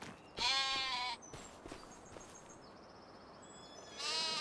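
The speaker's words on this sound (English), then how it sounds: "What a cute little goat." Small goat on a farm bleating loudly in a few close, wavering calls, with quieter rustling and faint background noise between them.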